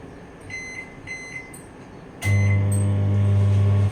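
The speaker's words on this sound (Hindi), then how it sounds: "माइक्रोवेव मोड पर हम 2 मिनट के लिए स्टार्ट कर देंगे" A steady low electrical hum starts abruptly after a few faint beeps and runs loud and constant, like a microwave oven operating up close.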